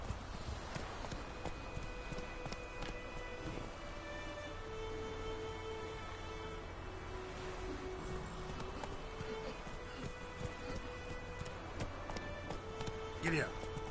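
Horse hooves clip-clop at a steady run in The Witcher 3, a continuous rhythmic patter under game music and ambience, with a voice speaking over it and a brief whinny near the end.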